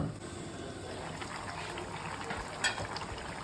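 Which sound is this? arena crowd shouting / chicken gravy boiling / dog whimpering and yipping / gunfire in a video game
chicken gravy boiling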